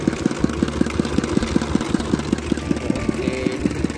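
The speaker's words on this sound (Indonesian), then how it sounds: "Ini saya coba gas sedikit. Nah, itu halus tenan suara." A Dongfeng 16 hp diesel engine powering a rice-field water pump runs with a fast, even, thumping knock, revved slightly, close and steady throughout.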